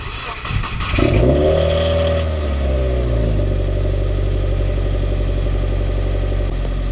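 A Subaru with a 6-speed manual starts up and revs loudly early in the morning, a sharp rise settling into a steady, throaty idle heard close by and alone.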